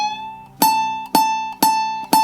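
A plucked ukulele string, bent to raise its pitch, rings out four times in an even rhythm, each note sustaining clearly and cleanly, up close with no talking.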